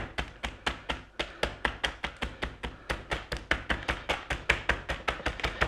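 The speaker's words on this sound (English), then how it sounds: "I'm hitting them lightly and with the curved end of that skillet" Chicken pieces are pounded lightly with the curved end of a skillet, giving a steady run of soft, evenly spaced thuds, about five per second, close by with no talking.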